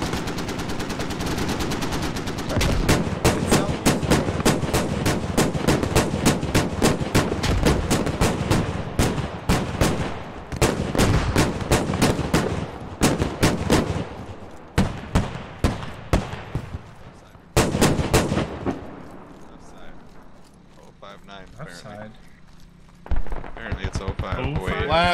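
Rapid automatic gunfire in the military shooter game Squad, long dense bursts of loud close shots for about fifteen seconds, then sparser scattered shots and a final burst, with voices talking over the action.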